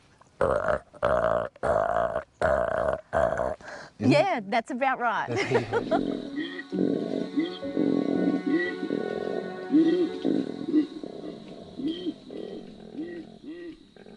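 A person imitating a male koala's mating call, a series of deep rhythmic snoring grunts followed by rough, belching bellows, loud and close, with a short remark from the person afterward.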